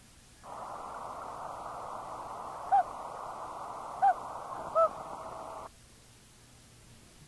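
A common loon gives three short, soft hoots, spaced out and clear above a steady hiss from an old 1980 cassette tape recording, with no other sounds around them.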